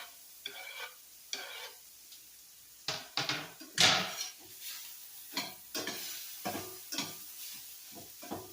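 Spatula stirring cilantro into fish frying in a pan, a series of scraping strokes and clacks against the pan over a soft sizzle, close and fairly quiet.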